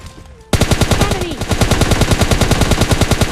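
Automatic gunfire in the PUBG battle game erupts suddenly after a quiet moment, a loud, rapid, evenly spaced stream of shots that carries on without pause.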